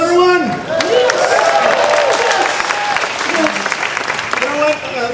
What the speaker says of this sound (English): Let's give a big round of applause for Serena Arvizo, everybody.